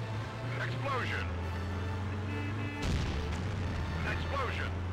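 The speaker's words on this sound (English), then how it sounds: "Explosion." A booming explosion in the driving video game Stuntman bursts sharply over a continuous engine drone, with a voice talking over the game sound.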